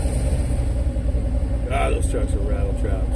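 A rattling old truck rumbles alongside a car cruising on a Sunday, a steady low engine drone with loose metallic clatter and a few brief higher rattles layered on top.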